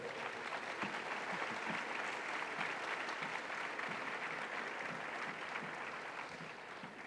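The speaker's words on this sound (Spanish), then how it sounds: "para el cual pido un aplauso" A lecture audience applauds Marcelo Gullo with sustained, even clapping that holds steady for several seconds before tapering slightly, heard alone without speech.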